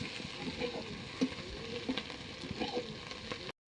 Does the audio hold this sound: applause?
no